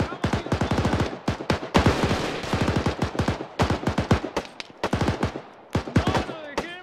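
Automatic rifle and machine gun fire in the military shooter Arma 3, dense rapid bursts of sharp cracks in repeated clusters separated by short pauses, loud and close with overlapping shots.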